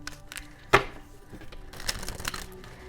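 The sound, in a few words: shuffling tarot cards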